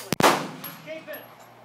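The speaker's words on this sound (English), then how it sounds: "We'll shoot the handgun." A 9mm handgun fires a single loud, sharp shot at close range, followed by a brief echoing decay outdoors.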